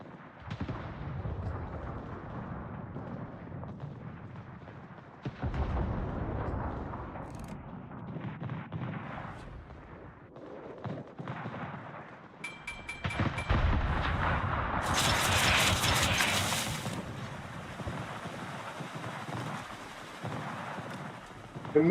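Warship guns firing in World of Warships: several deep, booming shots spread across the stretch, the heaviest burst of blasts coming near the middle, with quieter battle rumble between.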